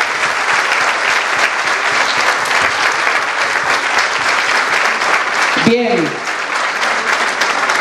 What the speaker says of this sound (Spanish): Un fuerte aplauso, Brinkmann